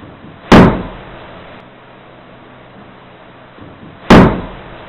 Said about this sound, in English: the door slamming, even with the windows open, definitely gave us a fright